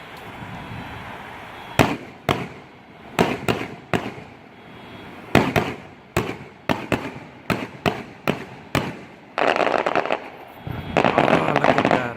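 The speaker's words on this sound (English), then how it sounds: "The backside of fireworks." Fireworks burst in a string of sharp, separate booms at irregular intervals, fairly near, ending in a denser crackling flurry.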